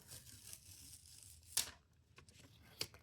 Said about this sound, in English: I'm taking the tape off.